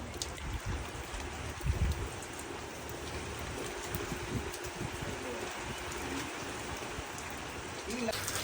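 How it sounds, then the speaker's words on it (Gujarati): Steady rain falls outside a horse stable, a soft, even hiss of drops heard throughout, with people talking nearby over it. "અત્યારે વરસાદ ચાલુ જ છે બહાર"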